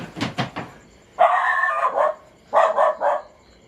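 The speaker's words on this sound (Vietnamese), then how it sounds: "Vì chó sủa rất nhiều, nó sẽ thường lấn vào tiếng của diễn viên luôn." A dog barks near a short-film shoot, two quick barks followed by a drawn-out howling bark and then a cluster of three more, loud and close against a quiet background.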